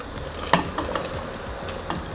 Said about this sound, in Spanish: acá ya tengo el plátano picado y ya se lo echo a los frijoles